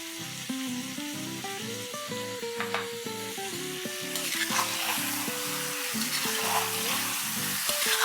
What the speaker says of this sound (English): Just saute it till the raw smell goes off.